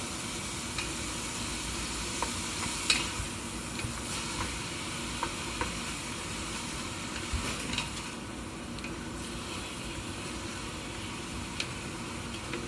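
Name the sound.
seafood being stirred and frying in pot for gumbo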